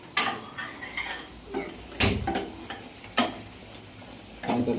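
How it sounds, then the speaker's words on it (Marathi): Amul paneer pan-frying in a home kitchen, a steady sizzle broken by loud clattering stirs and scrapes of a utensil against the pan, with a few sharp knocks. "पनीर भाजून घेते थोडंसं."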